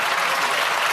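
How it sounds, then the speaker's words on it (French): Steady applause from National Rally deputies in the French parliament chamber, a dense, even burst of many clapping hands. "sous les applaudissements des députés du Rassemblement national"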